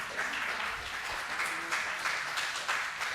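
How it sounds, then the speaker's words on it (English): A conference audience at a Python community event in Delhi gives a brief round of applause, a fairly faint, steady patter of many hands clapping. "Please can we have a round of applause for them?"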